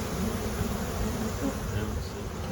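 A dense swarm of bees buzzes steadily and close by, a constant droning hum with no voices.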